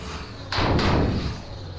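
A private bus door slams shut, a broad thud with a double impact close by, standing out over a steady rumble of the moving bus.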